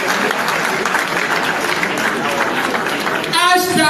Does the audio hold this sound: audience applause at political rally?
yes